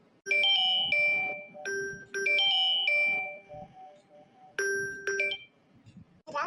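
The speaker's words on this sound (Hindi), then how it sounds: "उठाओ फोन, कब से बाजत बा" A mobile phone rings with a bright, repeating chime melody in several bursts separated by short gaps, loud and close in a home.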